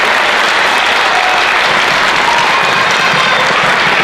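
Dense, steady audience applause at a spring school showcase, loud and continuous throughout, honoring the band's drum major with no voices on top.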